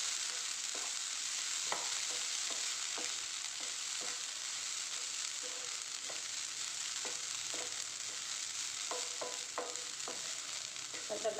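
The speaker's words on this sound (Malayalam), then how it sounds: "എല്ലാം കൂടി ഒന്ന് ഇളക്കി കൊടുക്കാം." Onion and coconut stir-fry (ulli upperi) cooking in a pan: a quiet, even sizzle running throughout, punctuated by scattered light scrapes and clicks of the spoon as it is stirred.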